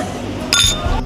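Glasses clink together in a toast, a bright, sharp chime ringing briefly and close up, with a murmur of voices around it.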